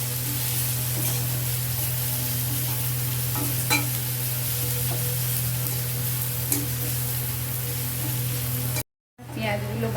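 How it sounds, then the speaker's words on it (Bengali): Onions frying in oil left from frying fish, a steady loud sizzle over a low electrical hum, with occasional light clinks and a brief cut to silence near the end. "যেহেতু মাছের তেলেই ভাজছি অটোমেটিক হয়ে যাবে"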